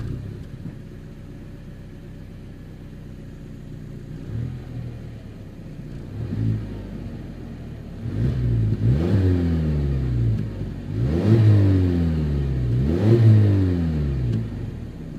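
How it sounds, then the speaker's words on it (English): A turbocharged Mazda 6 exhaust idles low, then is revved repeatedly: three or four rising-and-falling throttle blips grow louder and deeper toward the end, heard close and alone. "Exhaust clip."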